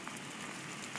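Steady, dense hiss of rain falling hard, a constant wash of pattering with a few sharper drops, fairly close and without talk.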